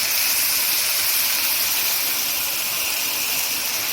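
Chicken meat in a cooking pan sizzles hard after a splash of water is added, making a loud, steady, close hiss with no pause throughout.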